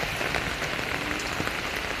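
Heavy rain pours steadily onto a backyard, a dense, continuous hiss and patter of drops hitting surfaces with no pauses.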